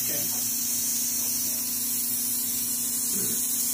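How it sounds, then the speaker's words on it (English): Steady, close hiss of a fine mist spray bottle of distilled water running without pause, during a machine facial, with a faint low hum beneath. "you're going to spray off to the side. And there's just distilled water in here"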